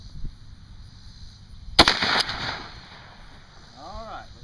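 A single loud blast from a UTS-15 shotgun fitted with a full choke, one sharp report followed by a short ringing decay. Faint background noise comes before the shot, and a brief sweeping tone follows it.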